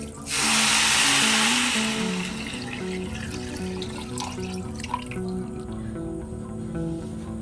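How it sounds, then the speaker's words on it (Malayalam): Water is poured into rice for Yemeni-style chicken mandi: a loud rushing splash that begins at once, then settles into a steadier, quieter flow over a low tonal hum. "ഇനി നമുക്ക് പാകത്തിന് വെള്ളം ഒഴിച്ചു കൊടുക്കാം."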